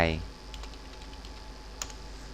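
Keys on a computer keyboard are tapped while a playlist name is entered, giving a few light, close clicks over a quiet background.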